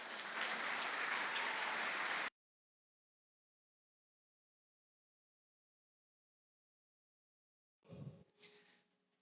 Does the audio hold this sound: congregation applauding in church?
yes